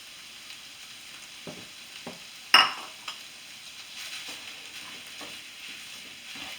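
Finely cut lean roast beef hits a hot pan for hash with a sharp sizzling burst, followed by quieter frying hiss and scattered scraping and stirring sounds.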